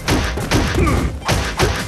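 Heavy hit thuds landing in a one-on-one fighting video game, a few punchy impacts in quick succession amid busy game noise, loud and close.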